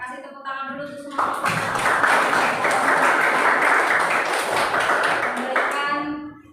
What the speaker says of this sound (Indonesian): Kasih tepuk tangan dulu untuk semua.